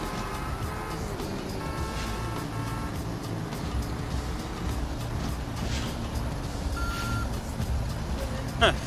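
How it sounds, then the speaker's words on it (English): Repeating reversing beeps from a bus-like vehicle in Grand Theft Auto, heard over dense engine rumble and game noise, with a short series of regular beeps early in the clip. "They even put reversing sounds into the car."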